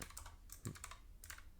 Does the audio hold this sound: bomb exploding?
no